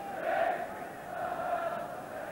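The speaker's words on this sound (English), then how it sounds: "Big and noisy crowd, Liverpool confident of one of their biggest gates of the season." A big, noisy football crowd at Liverpool versus Watford, a steady broad roar from the stands that swells and eases slightly, with no single voice standing out.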